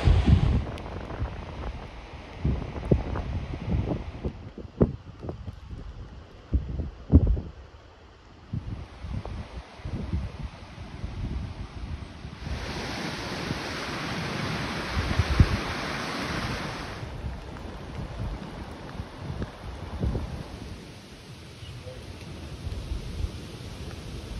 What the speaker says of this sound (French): malgré la pluie et le vent froid, c'était un site agréable à visiter